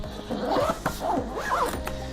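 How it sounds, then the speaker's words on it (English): Close, scratchy zipping as a suitcase holding a speedlight studio kit is closed, with two or three quick rasping pulls in a row and a short catch between them. "And the whole thing zips up."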